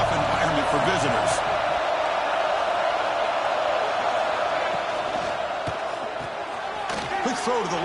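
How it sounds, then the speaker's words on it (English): Loud, dense stadium crowd roaring steadily throughout an LSU vs Notre Dame college football game, with shouts and whoops rising from the mass of voices and a brief swell near the end. "Listen to the crowd energy here in the early going."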